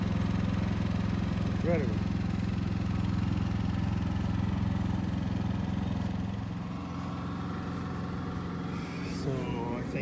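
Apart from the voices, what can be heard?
RV generator running near exhaust, Thor Rize motorhome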